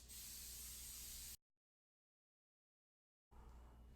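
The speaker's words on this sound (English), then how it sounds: "Now I'm going to go ahead and spray both of these with canola oil." A loud, steady hiss of an aerosol can spraying canola oil, one continuous burst of about a second and a half, then silence before a second burst starts.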